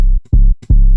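A distorted Spinz 808 bass with Fruity Bass Boost plays two loud, booming sustained hits with gritty overtones, separated by short gaps and softer blips, alone.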